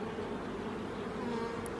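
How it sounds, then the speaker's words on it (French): Honeybees buzz steadily around a beehive super during beekeeping work, a dense, continuous, close droning hum with no voices. "il reste quelques abeilles, hein, mais rien de bien énorme"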